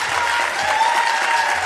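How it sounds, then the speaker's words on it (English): Audience applause at a New Jersey Democratic gubernatorial debate: steady, dense clapping from a crowd, loud and continuous throughout with no pauses. "Josh Gottheimer, I've got to ask the audience to please refrain from clapping"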